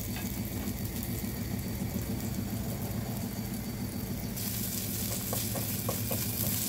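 Skinless chicken pieces fry in olive oil with an even, loud hiss and a low bubbling underneath, steady throughout and growing brighter and crackly toward the end.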